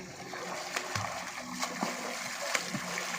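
Splashing in a village canal where people are swimming and ducking under the shallow water, a steady wash of water noise with a few sharper splashes scattered through it.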